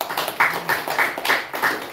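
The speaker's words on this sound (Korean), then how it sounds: "박수 한번 칩시다" A church congregation at a Sunday service at Anyang Bethel Church claps in several short, bright bursts over a couple of seconds. The clapping sounds fairly close and has no speech over it.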